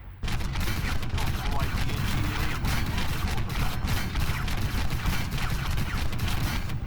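Rapid, continuous mech gunfire in a combat video game, a loud unbroken stream of heavy booming shots with crackling impacts across the whole stretch.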